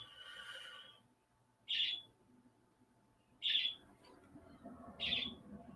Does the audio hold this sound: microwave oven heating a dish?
no